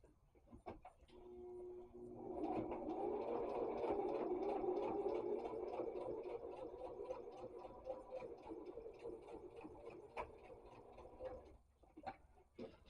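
A sewing machine runs steadily for several seconds while stitching back over a seam on a cassette-shaped fabric pouch, its quick mechanical ticking fairly faint and close, with brief starts and stops at either end.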